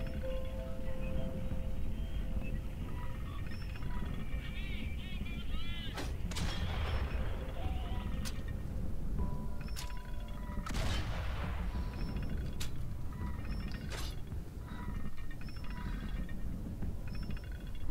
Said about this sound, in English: Cannon firing enabled Freddy and his regiment to reach the rear line unharmed.